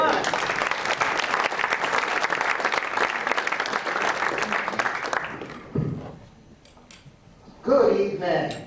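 A comedy club audience applauds a comedian walking on stage, a dense, steady wash of clapping and crowd noise for about five seconds that then fades out, followed by a voice speaking near the microphone.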